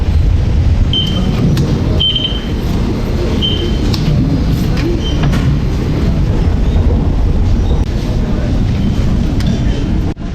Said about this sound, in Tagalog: Sasakay tayo ng train.